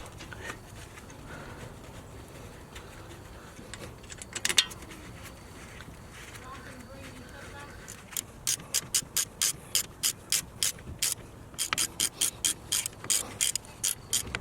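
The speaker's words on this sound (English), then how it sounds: "Now let's torque down everything." A torque wrench ratchets rapidly in short rhythmic bursts while the caliper bolts are tightened on a 2005 Jaguar S-Type rear brake, preceded by quieter clinks and handling of tools close by.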